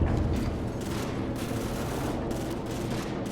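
Rapid gunship cannon fire from Call of Duty 4 rattles in dense, overlapping bursts, a continuous booming barrage heard alone with no talk.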